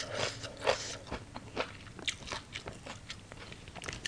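Someone chews crunchy food while eating spicy papaya salad with rice noodles, a close, quiet stream of irregular crisp bites and crackly mastication with no talking.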